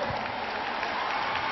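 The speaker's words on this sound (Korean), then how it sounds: "박수!" A brief, steady wash of crowd applause fills a concert hall at a concert in Japan.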